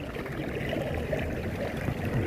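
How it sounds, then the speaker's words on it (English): Heavy water gushing and flowing steadily at a high rate, a dense continuous rushing wash that stays loud and unbroken throughout. "It's like fucking a gallon every 10 seconds."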